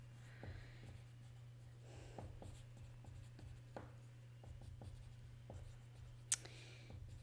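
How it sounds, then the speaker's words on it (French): Handwriting on paper, heard as quiet close scratching pen strokes in short taps and scribbles over a constant low hum, with one sharper tick near the end. "Je vais l'écrire si ça ne vous dérange pas."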